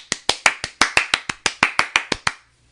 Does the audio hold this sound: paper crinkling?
no